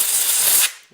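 Compressed air blasting slag off a fresh weld on a tractor axle, a steady loud hiss lasting most of a second before cutting off abruptly.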